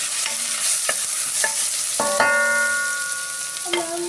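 Cumin and turmeric sauté in a pan for kadhi, giving a steady close-up sizzle broken by several bright metallic clinks from a stirring spoon against the pan.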